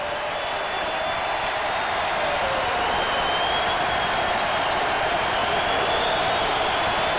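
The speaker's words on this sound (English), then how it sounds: "And the crowd erupts here inside the dome." Inside a domed arena at a college basketball game, Syracuse against Florida State, the crowd roars after a two-handed alley-oop slam dunk, a loud steady wall of cheering and applause that holds without a break.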